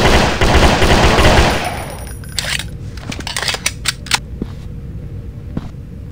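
Rapid gunfire in the Residence Of Evil video game: a loud dense burst of automatic fire for the first second and a half, then scattered sharp single shots and clicks alone, with no talking.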